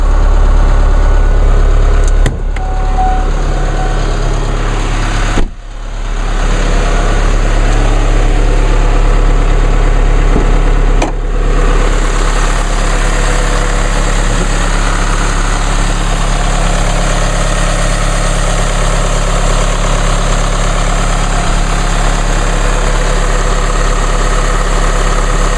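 A 2016 Chevrolet Colorado's 2.8-liter four-cylinder Duramax turbo diesel idles steadily after a cold start with a low rumbling clatter, close and constant throughout, with a couple of brief thumps early on.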